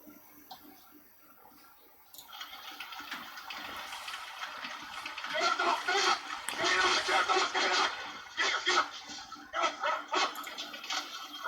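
A dog barks in a played-back recording, a burst of sharp barks and scuffling noise rising after a quieter start, with some voices faintly underneath.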